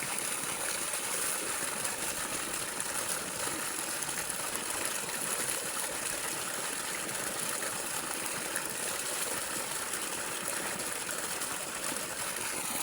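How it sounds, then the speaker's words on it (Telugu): Steady broadband rush of a waterfall in a green village setting, a dense continuous wash of falling water with no breaks or talk. "వాటర్ ఫాల్ చూడండి గాయ్స్ ఎంత మంచిగా ఉందో మీరు అర్థం చేసుకోవచ్చు"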